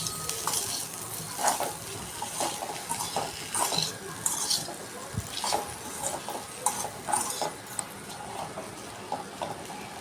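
Potato fry is tossed with Kashmiri red chilli and salt in a pan, with a utensil scraping and clinking against the metal in quick, uneven strokes under a faint sizzle.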